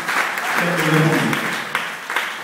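A church congregation claps along continuously, the hand-clapping steady and fairly loud while a voice speaks briefly over it.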